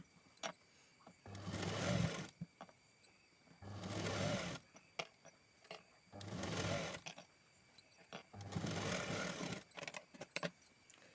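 A sewing machine double-stitches a lined blouse in four steady runs of about a second and a half each, separated by short pauses with small clicks and fabric handling.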